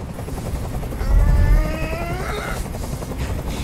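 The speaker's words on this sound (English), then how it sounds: "I can't stand that noise anymore. Tell that helicopter to get out of here." Helicopter hovering in the video game Detroit: Become Human, a thick rotor roar that swells in the middle and holds under tense scene sounds, with no voices.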